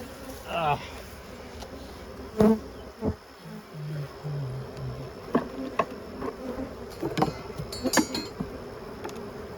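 Honeybees buzz steadily and aggressively throughout after a killing frost, with sharp bursts as they bump into things and a few low hums, under some quiet talking.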